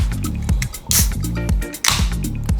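Soda water poured into a glass of ice gives a wet fizzing trickle with small drips and squishy bursts, close and fairly loud over light background music.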